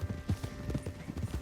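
Horse hooves in the video game Red Dead Redemption 2, a quick run of close clip-clops in a regular trotting rhythm.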